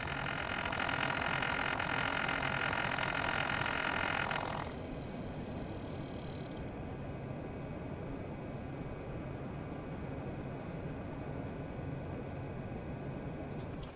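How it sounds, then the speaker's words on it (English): An all-in-one water cooler pump in a PC gives a loud, steady broadband whir for about five seconds, then cuts off, leaving a quieter background hum with a brief high tone afterward. "I'm going to stop the pump and we'll see what happens."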